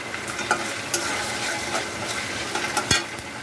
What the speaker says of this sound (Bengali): পেঁয়াজ ভাজা গেলে এবার দিয়ে দিলাম আদা রসুনের পেস্ট।